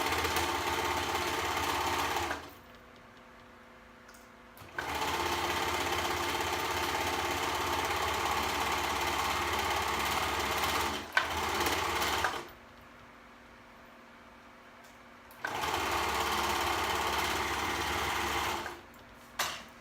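A sewing machine stitches fabric in long, steady runs of rapid, close mechanical whirring, broken by two pauses of quiet, with no talking.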